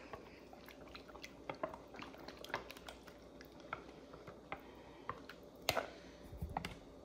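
Mayonnaise being whisked into a vegan ranch dressing in a bowl: quiet, irregular light clicks and taps of the whisk, close by and faint, with a slightly wet edge.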